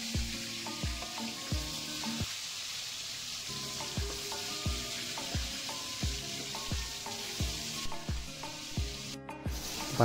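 Chandi (Indian piranha) fish deep-frying in hot oil, a steady close sizzle with rhythmic scraping and clatter as the pieces are turned.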